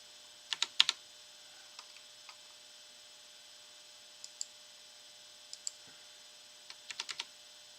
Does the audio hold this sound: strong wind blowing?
no